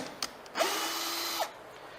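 Power drill backing a screw out of an MDF workpiece on a ShopBot CNC router bed, a single steady whirring run of about a second, close and loud, with a brief click beforehand and no talk.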